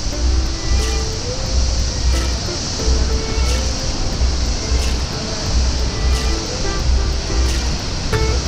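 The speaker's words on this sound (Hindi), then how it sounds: "Jong waterfall Arunachal Pradesh" Jang waterfall near Tawang in Arunachal Pradesh, a tall fall of roughly 200 to 250 metres, roars in a loud, steady rush of churning water that fills the air, with no voices over it.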